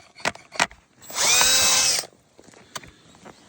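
A power drill whirs for about a second, boring through 10-inch-thick ice, between a few scattered knocks and thumps.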